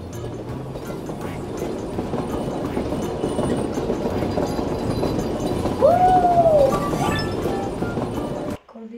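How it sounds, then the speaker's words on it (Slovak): A video game train (Poki browser game) rumbles past with a steady rolling roar, a horn sounding briefly near the end before the noise cuts off. "Keby ten vlak nebol tak otravný"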